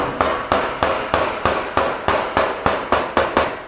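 Roof flashing from a Keylite tiled roof flashing kit is tapped down onto roof tiles, giving about a dozen loud, evenly spaced sharp knocks in a steady rhythm, close by with no talking.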